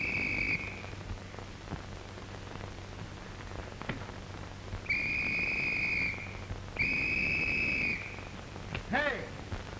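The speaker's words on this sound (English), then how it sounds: "was you blowing a whistle?" Three shrill whistle blasts, one brief and two longer, sounding loud and close over a low background rumble and scattered noise.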